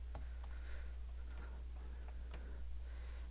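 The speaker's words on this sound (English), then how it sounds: "So we type in framework" Typing on a computer keyboard, sparse light key clicks scattered over a few seconds above a constant low hum, near and quiet, no speech.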